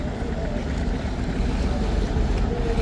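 A large river passenger launch, Kirtonkhola 10, slows as it turns, producing a deep, steady engine rumble mixed with wind and water wash. The sound is close and continuous, with no clear voices.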